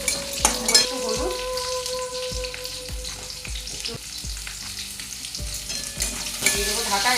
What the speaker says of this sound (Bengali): রসুন লঙ্কা ভাজা ভাজা হয়ে গেছে, ওর মধ্যে দিয়ে দিলাম কেটে রাখা বেগুন আর পটল।